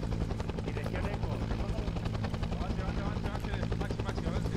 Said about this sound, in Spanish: Venga, nos movemos hacia el helicóptero.